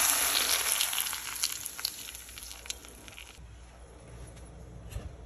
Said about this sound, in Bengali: বাগার দিয়ে দিলাম, চপ রসুন দিয়ে দিলাম